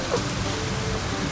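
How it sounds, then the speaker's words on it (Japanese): Heavy rain pelting down during a typhoon, a dense, loud, unbroken roar of drops striking surfaces nearby, with no voices. "わあ、雨が強くなってきた。"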